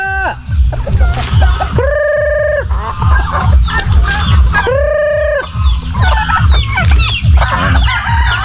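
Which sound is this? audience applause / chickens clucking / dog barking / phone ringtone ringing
chickens clucking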